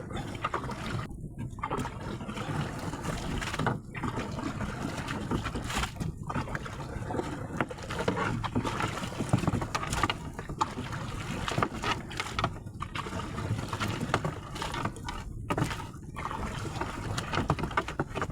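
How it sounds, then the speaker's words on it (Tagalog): A small boat is paddled by hand across open water at a crabbing spot, with steady close water wash and wind noise running throughout and no engine. "Palpak talaga pagpasagwan mga kaibigan."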